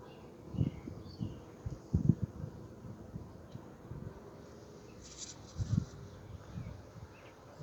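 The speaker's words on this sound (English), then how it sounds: "Lots of young bees over here." Honeybees hum softly around an open hive during an inspection, a low continuous drone with a few louder buzzing bursts as bees pass close by.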